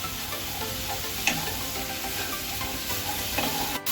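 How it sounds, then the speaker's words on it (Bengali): Masala paste sizzles steadily in a pan for Bengali potoler dorma, a continuous close fry with light stirring scrapes and a brief clatter near the end, no speech. "আমার মশলা কষা হয়ে গেছে"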